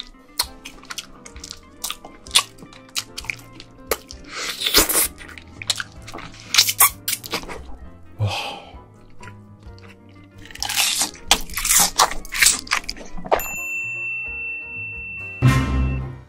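Raw red snow crab is eaten up close, with sharp crunches of shell, wet chewing and occasional drips coming in irregular bursts, loud and alone without talk.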